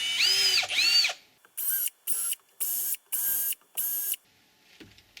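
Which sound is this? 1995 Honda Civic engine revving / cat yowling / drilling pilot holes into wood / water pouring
drilling pilot holes into wood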